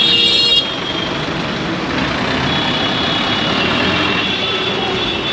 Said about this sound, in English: The motorbikes are so loud and so are the buses with the honking.